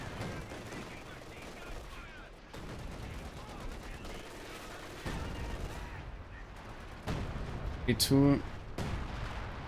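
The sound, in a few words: machine gun fire in a tank battle video game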